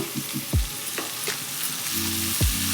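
Finely chopped tomatoes fry in a pan for bansi rava upma, a loud, close sizzle broken by a few sharp stirring scrapes of the spoon.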